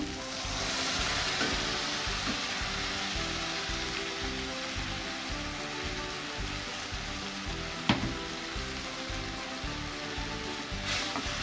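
Tomato frying in a pan with a ginger, garlic, cumin and mustard paste, for a Bengali rui fish kalia, gives a steady close sizzle throughout, with one sharp clink partway through and no talking.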